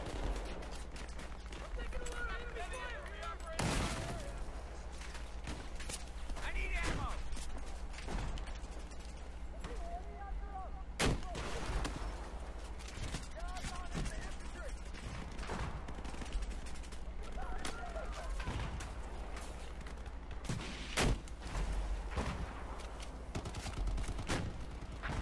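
Rapid bursts of gunfire and machine-gun fire from a Battlefield 4 multiplayer match crackle in repeated volleys over continuous battle ambience, with a player talking at times.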